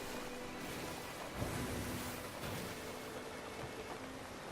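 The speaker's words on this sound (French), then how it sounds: "Alors on profite de la mer. Des bruits des vagues." Sea waves in the video game Sea of Thieves wash in a faint, steady, continuous rush with a soft swell partway through, heard alone without talk.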